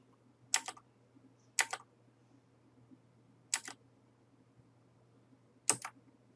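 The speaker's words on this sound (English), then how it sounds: "using my arrow keys, I'm going to nudge this into a better" Four sharp, isolated key clicks from arrow keys on a computer keyboard, spaced about a second apart, close and fairly quiet over a low steady hum, with no talking.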